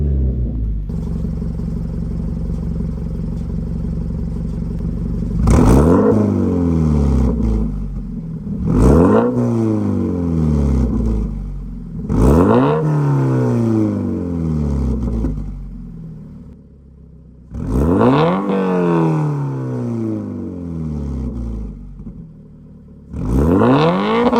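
A Subaru BRZ sports car with an AWE Touring exhaust roars through repeated sharp revs, about six surges rising and falling over a steady idle rumble, loud and close.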